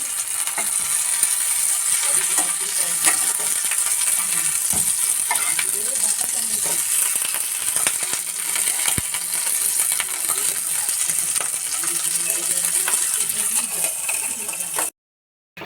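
Tomato frying in a pan for an eggplant mash sizzles in a steady, close, continuous hiss, with occasional clinks and scrapes of stirring, then cuts off abruptly near the end.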